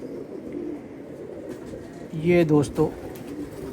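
Pigeons cooing close by, a few short rounded coos clustered in the middle, with someone talking briefly over the start.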